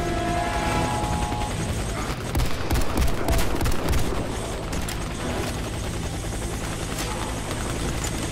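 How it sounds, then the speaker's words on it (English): A helicopter arrives for extraction in Warface, its rotor drone steady and loud while bursts of gunfire crackle over it in the middle of the clip. "Helicopter is inbound. 20 seconds. Prepare for extraction."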